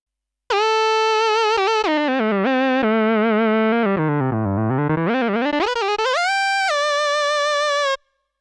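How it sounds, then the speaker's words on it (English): A bright Casio CZ synthesizer tone on a Casio XW-P1, with rich harmonics, sliding and stepping in pitch through a continuous phrase, swooping low then rising high before cutting off. "some of the sounds built into the solo synthesizer are CZ tones"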